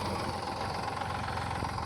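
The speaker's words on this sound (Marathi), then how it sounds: "बघा आमचं पेरणी यंत्र ही आणि हे आमचं ट्रॅक्टर आहे." An 18-year-old farm tractor, shown with its seed drill, idles with a low, even engine rumble and faint knocking throb, steady and moderately distant with no voices.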